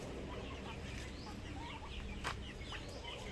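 Rhode Island Red hens cluck and murmur in a flock, a busy layer of overlapping soft calls with an occasional sharper squawk, at moderate distance over steady outdoor background noise.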